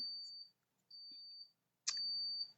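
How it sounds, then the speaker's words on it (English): A jewelry kiln gives three high electronic beeps, each lasting about half a second with short gaps between, ringing steadily with no one talking. "That beeping is my kiln."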